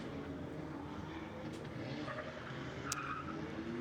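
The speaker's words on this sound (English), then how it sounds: "you can see in the background Pete Nielsen warming his tyres" A Pro-class drift car warming its tyres at an IDC Round 6 qualifying event, a distant, steady engine drone with long tyre squeal running underneath, quiet and far off throughout.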